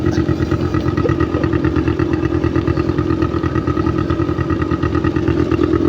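A motorcycle engine runs steadily and close by, with a rapid, even mechanical pulse and some chain clatter throughout, and no voices are heard.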